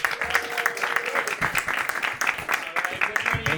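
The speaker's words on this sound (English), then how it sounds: "start clapping right now for, okay, it's Raphael Alexander" Audience clapping at a comedy roast battle show, moderately loud and dense, mixed with crowd noise and voices throughout the short stretch.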